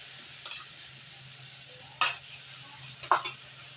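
Onion-garlic paste with cumin and ginger paste sizzles in oil for a mustard koi curry, a quiet continuous hiss broken by two sharp clinks and scrapes of a spoon against the pan.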